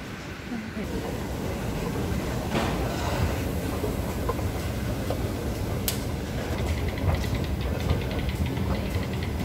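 Steady rumbling ambience at the exit of Somerset MRT metro station, with broadband noise, faint clicks and distant rail or traffic sounds running throughout, loud and continuous with voices murmuring underneath.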